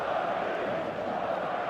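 A packed stadium crowd in the eFootball 2026 football game roars in a steady, dense wash of voices, continuous and fairly loud with no distinct peaks across the short stretch.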